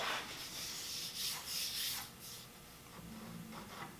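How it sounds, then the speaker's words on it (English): A power sander fitted with fresh 220 grit sandpaper does a final finish sand on wood, giving a steady, close, rasping hiss that swells and eases in gentle waves throughout, with no talk. "I've got a fresh 220 loaded up on the sander, and now we're going to do the final sand."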